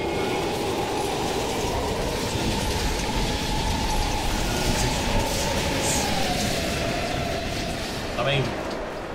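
A train rumbles through an underground station in the video game Call of Duty Black Ops Cold War, a steady heavy rolling roar with wheel clatter and a brief squeal near the end.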